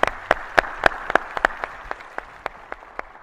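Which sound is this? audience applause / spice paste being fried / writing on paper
audience applause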